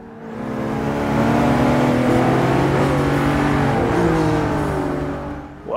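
A McLaren 650S Coupe drives through tricky turns, its engine holding a loud, sustained, close roar with shifting pitch as revs rise and fall through the corners, no talk.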